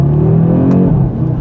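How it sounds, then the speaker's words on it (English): A 2025 Audi RS3's five-cylinder engine revs loudly and close up, with a steady, growling tone that holds for over a second with no talking. "the character of this engine is just unmatched. The tone of it, oh man, that 5-cylinder growl is just out of this world."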